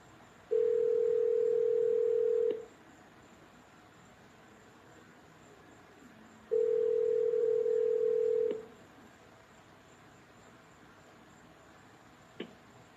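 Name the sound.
telephone dialing tones before a call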